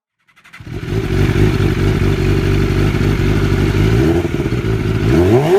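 An MV Agusta F4RR sport motorcycle with a four-cylinder engine starts up and settles into a loud, close, rough idle, then revs sharply near the end.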